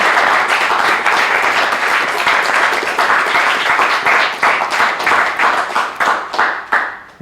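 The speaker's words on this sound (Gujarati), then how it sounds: "એક વખત જોરદાર તાળીઓ આ દરેક લેખકો માટે" An audience at a writers' round-table event applauds the writers, loud sustained clapping from a crowd that thins into scattered individual claps toward the end.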